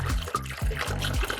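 Cold water is poured over ice cubes to chill a bottle of wine, making a soft, gurgling, splashing pour with a few bubbly surges, close and quiet.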